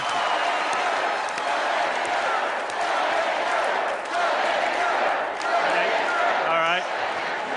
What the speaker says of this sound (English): the crowd is definitely with you, Drew.